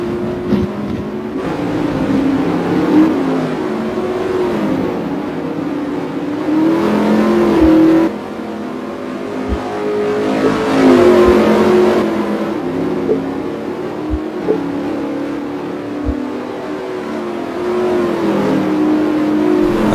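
Street stock race cars running practice laps on an oval track, engines roaring and revving loudly in long swelling passes, with occasional sharp thumps and no talk.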